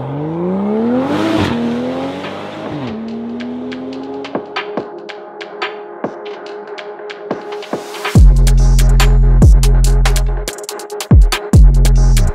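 A Toyota GR Supra engine revs and rises in pitch, then settles into a rumbling idle with sharp clicks, ending in loud, deep throbbing revs.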